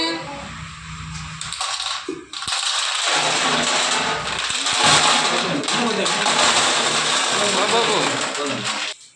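A flour mill machine grinds grain at a newly opened grinding mill, a loud, steady broadband roar that starts after a brief pause and runs continuously to the end.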